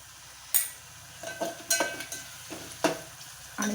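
Onion and tomato fry in a pan while a spoon stirs them, making a soft steady sizzle broken by several sharp scraping clicks at irregular intervals. The sound is quiet and close, with no voices.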